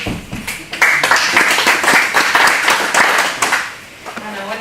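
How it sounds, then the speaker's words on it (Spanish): Audience applause at an indoor workshop on Indigenous peoples of the Peruvian Amazon, a dense spread of clapping hands lasting several seconds before tapering off, with faint voices beneath. "Un aplauso."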